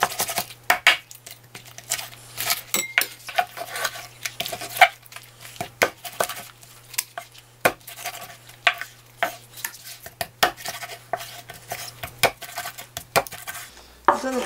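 Monkfish being cleaned and prepared in a home kitchen for braised spicy monkfish: scattered close knocks, scrapes and clinks of utensils and dishes at an irregular rhythm over a faint steady hum, with no talk.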